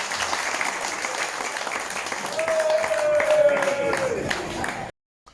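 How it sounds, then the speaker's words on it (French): An audience at a cycling club's evening gala in Martinique breaks into steady, sustained applause that swells slightly before cutting off abruptly, with a faint whistle or tone sliding through the middle. "que je vous demande d'applaudir."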